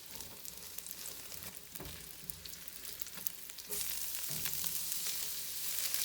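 Garlic and imitation crab fry in a pan for a Hong Kong style eggplant stir fry, a close steady sizzle broken by the clatter of stirring, with the hiss turning brighter and louder partway through.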